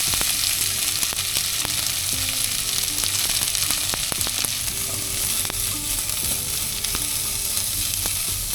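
Chopped capsicum and onion fry in hot oil with a loud, continuous sizzle, broken by occasional scraping and stirring clicks.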